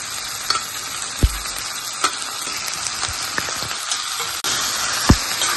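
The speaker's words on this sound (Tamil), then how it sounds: "இப்போது நம்ம கட் பண்ணி வச்சிருக்கிற கீரையை போட்டுருவோம்" Chopped spinach is stir-fried in a pan, producing a close, bright sizzle punctuated by sharp spatula taps and scrapes at irregular intervals, with the frying growing louder near the end.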